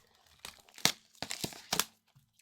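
Plastic wrap being cut and torn off a retail box of 23/24 Revolution basketball trading card blasters: a few short, close crinkling and ripping bursts with quiet gaps between.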